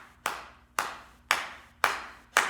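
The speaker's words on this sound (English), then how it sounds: "I'm going to stop clapping" Five sharp, evenly spaced hand claps ring out close and alone, keeping a steady pace during a Bikram yoga breathing exercise.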